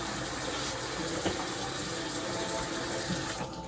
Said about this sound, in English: Had to wash the knife.